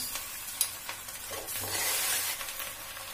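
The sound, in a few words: green chilies and tomatoes frying in butter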